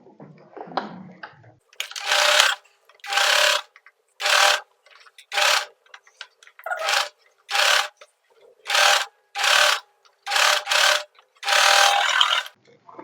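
A sewing machine stitches the lining of a katori blouse in short bursts, its needle chattering rapidly for a second or so at a time, with about nine separate runs broken by brief pauses.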